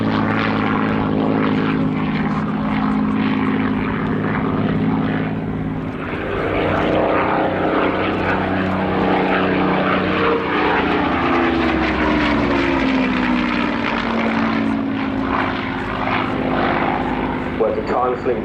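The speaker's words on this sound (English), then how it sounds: "That crew captain Mike Baldwin comes in for the Hurricane display." A Hawker Hurricane propeller fighter performs a flying display at an airshow, its piston engine droning loudly and continuously with a shifting pitch as it passes, while a commentator talks over it throughout.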